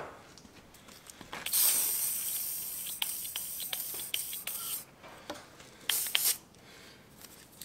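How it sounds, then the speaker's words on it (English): Swepco penetrating oil sprayed from a can onto tractor steering parts of a Case David Brown 1394: several hissing bursts, one long and several short, close by and moderately loud, with small clicks between. "I'm gonna grab some penetrating oil"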